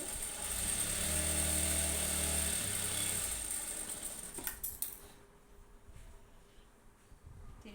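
Sewing machine stitching an embroidery blouse, a steady motor hum for about four seconds that then stops, leaving quiet room noise with a few faint clicks.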